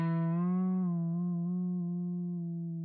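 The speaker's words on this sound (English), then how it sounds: "But if I play it while I use this bending tool over here, it's going to make a huge difference." Single sustained note from a session guitar plugin with its pitch bend knob moved, the tone sliding and wavering in pitch while slowly fading, moderately quiet and alone.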